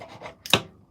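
A brief rough rasping grind in a home kitchen while a stir fry is cooked, a single short scrape preceded by a few faint softer rubs, close and moderately loud.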